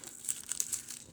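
Tape being peeled off during machine sewing of buttons for doll-making: a soft, brief crinkling and tearing rustle, quiet and close.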